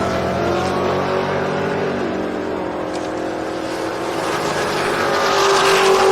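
A Camaro and a 1970 El Camino make a drag racing pass at a summer drag event, a loud, sustained engine roar that swells toward the end.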